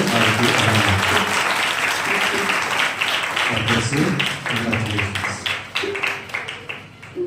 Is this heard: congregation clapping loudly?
yes